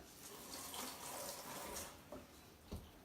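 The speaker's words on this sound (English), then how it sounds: "I gotta wash my hand off" Tap water runs steadily into a sink while hands are rinsed under it, the splashing broad and even, with a couple of brief knocks near the end.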